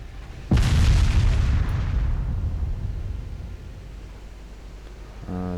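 Enemy warship guns fire in an Ultimate Admiral Dreadnoughts naval battle: one loud, close booming blast that decays into a long rumbling tail, followed near the end by a fainter rattling burst.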